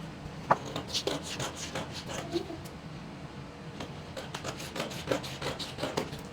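Scissors cut through fabric for a jumpsuit pattern piece, quiet close snips and rasping rubs in an uneven run, with a few faint voices in the background.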